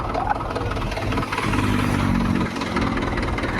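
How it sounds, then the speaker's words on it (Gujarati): A tractor engine idles nearby with a steady, heavy low rumble that holds even and loud throughout, rising slightly in the middle without any revving. "આ રહ્યું ટ્રેક્ટર."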